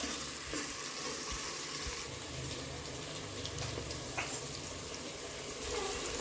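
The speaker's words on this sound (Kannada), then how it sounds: "ಇದೊಂದು ಸ್ವಲ್ಪ ಹಸಿ ವಾಸನೆ ಹೋಗೋವರೆಗೂ ಫ್ರೈ ಮಾಡ್ಕೋಬೇಕು" Ground masala fries with tomatoes in hot oil, making a continuous close sizzling and crackling with occasional stirring scrapes.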